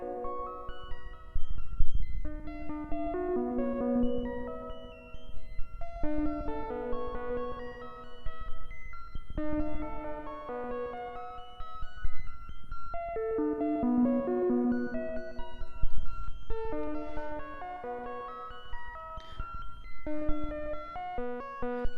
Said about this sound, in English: So that's the sound of the digital reverb.